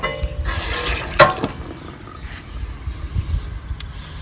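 Water bursts from an opened valve on a Gulfstream camper water heater during winterizing, a close, loud rushing spray at the start that settles into a steadier hiss and trickle.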